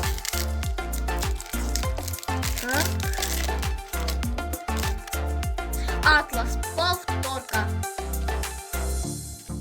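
Crinkly foil packets of Hroma Legends trading cards rustle and crackle up close in sharp, rapid bursts, with someone talking over the handling.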